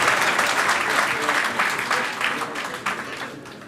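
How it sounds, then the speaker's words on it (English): A crowd at the Delphi Economic Forum 2017 claps warmly for Kyriakos Mitsotakis, a dense burst of applause that holds steady and then gradually fades. "Round of applause, please."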